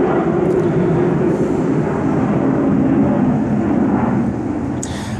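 A steady, loud roar from an airplane passing overhead fills the whole stretch, with a broad rumble that stays constant and eases only slightly near the end.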